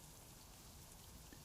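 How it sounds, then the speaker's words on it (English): Steady, faint rain falls continuously in a video game, a soft even patter with no voices. "These guys don't seem to mind the rain"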